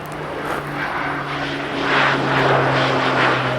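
A low-flying airplane drones overhead above farm fields, a steady engine hum that swells slightly louder partway through, with no voices.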